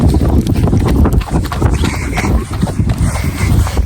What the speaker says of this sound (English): I almost can't ride this horse.